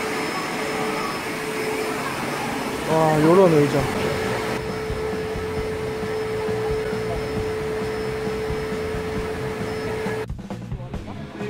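Vacuum cleaner running in a beach resort in Mactan, Cebu: a steady, droning whine that holds throughout and cuts off near the end, with people talking over it.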